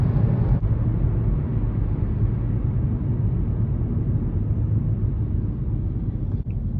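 Steady low rumble of road traffic passing on a Texas street in Rhome, a continuous broadband drone holding at an even level throughout, with no voices.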